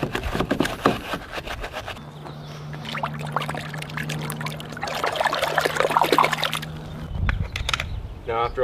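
Water rinses a car during exterior detailing, heard as a close, loud pour and splash of running water that changes in tone as the spray moves over the panels, with a brief quieter gap near the end.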